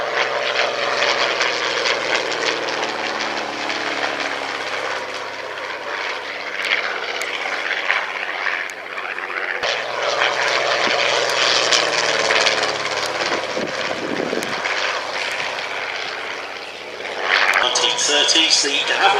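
A 1930s de Havilland Comet propeller aircraft flies at a heritage airshow, its engine droning loudly and steadily, swelling and fading as it passes, with a voice talking over it.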